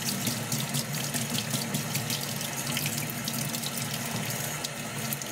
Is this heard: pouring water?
yes